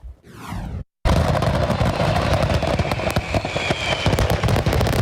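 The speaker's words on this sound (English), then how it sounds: "one of the fireworks actually unintentionally discharged, and then this happened." Fireworks accidentally discharging from a truck: an initial whistling launch, a brief silence, then a loud, dense barrage of crackling bangs and pops that continues without pause.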